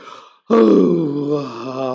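A man imitates a long, drawn-out yawn, a loud voiced groan that starts abruptly after a short quiet pause and slowly trails off.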